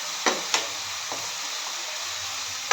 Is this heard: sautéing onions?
yes